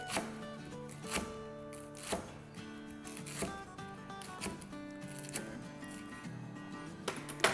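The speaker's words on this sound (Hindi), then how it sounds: "जैसे पालक को काटते हैं ना, इसको भी काट लेंगे" Betel (paan) leaves being chopped with a knife, as for a paan drink: a steady run of soft, close knife strikes on a board, with no talk.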